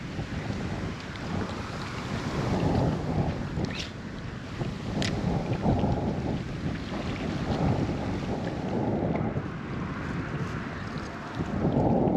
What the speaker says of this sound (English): this wind is just constant now over here